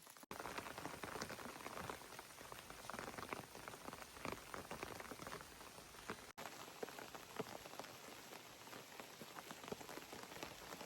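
A heavy rain downpour outdoors, a dense continuous patter of drops on surfaces, steady and even throughout with no voices.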